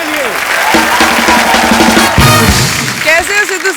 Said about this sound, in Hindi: जोरदार तालियां प्रियंका चोपड़ा के लिए।